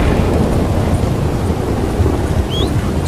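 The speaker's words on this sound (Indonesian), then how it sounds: "Ajur, ada petir" A thunderstorm in the video game Red Dead Redemption 2 rumbles as a dense, loud wash of rain and low thunder, steady and enveloping for a few seconds with no speech.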